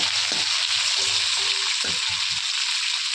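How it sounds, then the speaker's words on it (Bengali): Pre-fried fish added to a pan with fried garlic and chili, a dense, loud, steady sizzle close up, with low stirring bumps underneath. "তো দেখো রসুন আর লঙ্কাটা ভাজা হয়ে গেছে, এখন আমি দিয়ে দিচ্ছি মাছ।"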